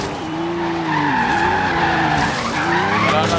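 A Dodge Viper in Forza Horizon 3 skids through a corner. Its tires squeal in a loud, wavering whine over engine roar, close and continuous for a few seconds, with no talking.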